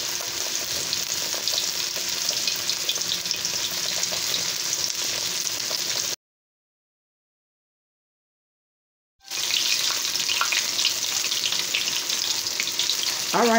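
Catfish frying in a pan with a steady, close sizzle and crackle of hot oil, cut by a few seconds of total silence before the sizzling resumes.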